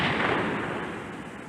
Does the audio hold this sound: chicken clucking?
no